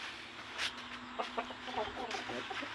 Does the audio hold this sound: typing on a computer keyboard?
no